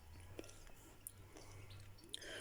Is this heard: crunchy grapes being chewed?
yes